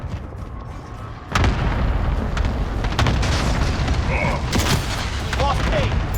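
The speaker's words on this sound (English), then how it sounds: "Allied cluster strike incoming." Cluster strike explosions in Call of Duty: Modern Warfare (2019) multiplayer: a heavy boom hits, followed by rolling blasts and scattered gunfire in a loud, dense battle din.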